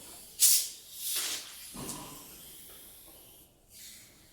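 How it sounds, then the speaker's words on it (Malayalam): Short bursts of bright fizzing and hissing as soda is poured, a few spurts in quick succession that fade into a quiet crackle. "സോഡ ഇച്ചിരി കൂടെ ഒഴിക്കാനുണ്ട്"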